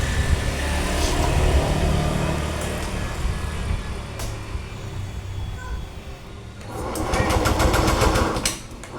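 A scooter engine with worn CVT rollers and a used-up double clutch lining revs with a rattly, buzzing drone, dipping and rising, ending in a sharper rapid clatter near the close.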